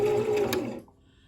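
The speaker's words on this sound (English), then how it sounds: "you're just gonna go ahead and sew a straight line, like just a few stitches" A sewing machine back stitching a fabric ruffle, a short whirring run of the motor and needle that winds down and stops after under a second, loud and close with no talking.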